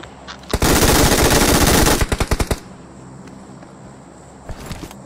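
Gunfire in a mobile battle-royale shooter game, a loud, rapid automatic burst lasting over a second, followed by a string of distinct single shots, then a quieter rattle of distant fire.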